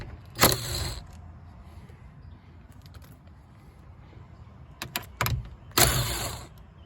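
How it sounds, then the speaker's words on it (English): Ingersoll Rand power tool removing side mirror bolts on a 2011+ Infiniti M56/M37/Q70, short buzzing bursts separated by quiet pauses, with a few brief clicks between them, close and moderately loud. "I like this Ingersoll Rand tool because it's not too strong."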